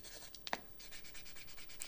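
Pencil or pen writing on paper in a quiet ASMR setting, soft close-up scratches and short rubbing strokes in an irregular rhythm, faint and alone.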